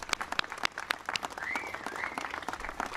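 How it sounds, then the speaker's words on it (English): A crowd applauds, a dense run of clapping at moderate volume with a faint whistle or cheer rising midway. "Can we give applause for that?"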